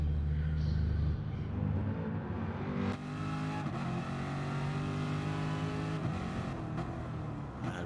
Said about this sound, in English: There is the lump of the Corvette.